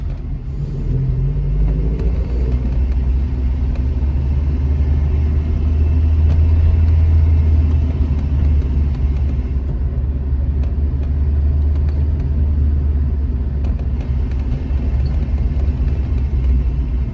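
Alfa Romeo GT1300 cars driving along a Roman road toward the Brenner, a steady low engine rumble heard from inside or close by, swelling slightly mid-clip then holding even, with no talk.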